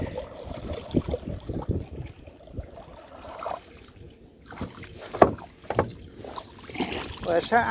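A small village boat glides over water with soft sloshing and paddle splashes, mixed with light wind noise on the microphone and voices at moments.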